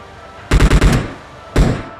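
Two bursts of rapid gunfire in the video game PUBG Mobile on the Erangel map: a quick string of four or five loud shots, a short pause, then a single sharp shot, with no talking.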